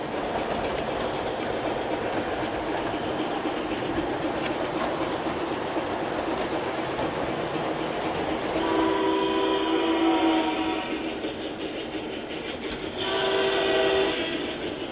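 A model train rumbles steadily along its track, and two brief horn blasts sound partway through over the continuous running noise.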